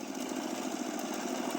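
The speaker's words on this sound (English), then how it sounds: "With the engine roaring, nobody dared to get close" Flipped-over tractor engine roars steadily while still plowing a farm field, a loud, close, continuous mid-pitched chug with a rapid pulsing beat and no voices.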